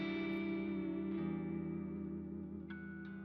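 A sustained, shimmering guitar chord swells and hangs in a wash of lush ambient reverb from a Strymon Cloudburst pedal, with faint pick touches ringing out near the end.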